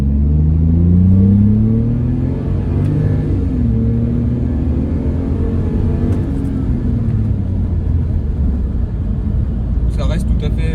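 A BMW Z3 2.2 six-cylinder engine accelerates from 0 to 80 with a deep, steady drone. The pitch climbs through the gears and drops briefly at each shift, heard from inside the car with someone talking over it.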